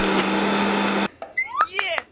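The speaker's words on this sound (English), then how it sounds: "In the blender, add one sprig of fresh tarragon, peel the zest from one lemon, then squeeze juice from that lemon and blend everything." A blender whirs loudly and steadily for about a second while blending fresh tarragon, lemon zest and lemon juice, then cuts off abruptly, leaving brief clinks and chirpy squeaks.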